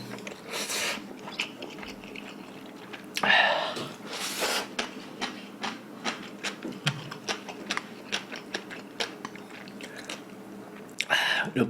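Close, moist chewing and biting of beef seaweed soup ramen during a Korean mukbang, with soft crunches and slurps in irregular bursts over a quiet background.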